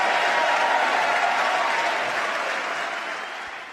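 A large chamber audience at a State of the Union address breaks into sustained, dense applause, loud and even throughout and easing slightly near the end, with no talking over it.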